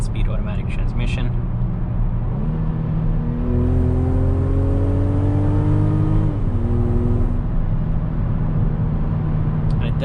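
A 2021 Mercedes-Benz GLC coupe accelerating from inside the cabin, engine drone climbing in pitch, dropping briefly as the 9-speed automatic shifts, then climbing again and settling, with someone talking over it.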